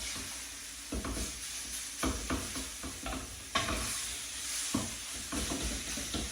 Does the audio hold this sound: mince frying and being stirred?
yes